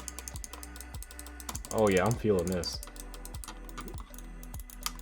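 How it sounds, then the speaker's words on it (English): Rapid mouse clicks come from G-Wolves Hati and Cooler Master MM710 gaming mice, a steady stream of crisp, close ticks. Someone speaks briefly partway through. "But these mouse clicks though, for sure."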